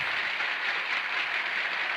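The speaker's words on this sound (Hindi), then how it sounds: "इस बात पे तालियां हो जाए।" Crowd applause at a reaction show, a dense steady wash of many hands clapping together, moderately loud and unbroken for the whole stretch with no voices over it.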